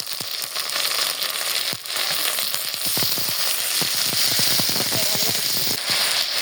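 Onions sizzle loudly in a hot pan with ginger garlic paste, a dense crackling hiss broken by frequent scraping stirs, close and continuous.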